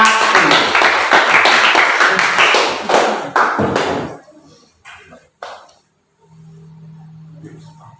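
Classroom applause for a student group: many hands clap quickly and densely for about four seconds, then fade to a few scattered claps, with quiet voices and a low hum afterward.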